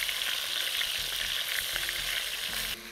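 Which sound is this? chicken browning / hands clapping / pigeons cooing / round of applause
chicken browning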